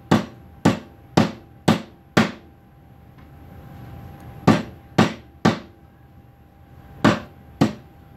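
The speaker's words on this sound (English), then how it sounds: "with this hammer here, I'm going to start beating on them a little bit" A hammer pounds raw meat repeatedly, sharp thuds in bursts of several blows with pauses between, close and fairly loud, no speech.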